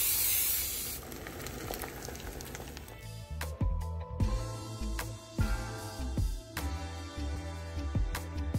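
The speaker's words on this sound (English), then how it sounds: "I like using olive oil because it's zero calories, so you just spray." Olive oil cooking spray hisses briefly before eggs, turkey and ham start sizzling and crackling in a pan, the frying close and steady with sharp pops throughout.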